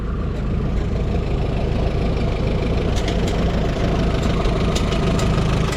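A tractor with a stock 403 engine idles at a farm heritage show, a loud, steady, low rumbling drone that holds unchanged throughout, with no talk over it.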